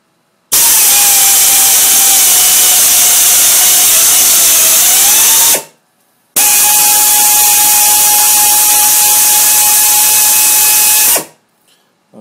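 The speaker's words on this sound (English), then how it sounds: "Now this is a number size 2 Bills tapper. Here we go, through 1-inch thick steel plate" A size 2 Bills pneumatic tapper drives a 3/8-16 coarse thread through 1-inch thick steel plate. It makes two loud, steady whirring bursts of about five seconds each, with a short silent gap between them and no voices.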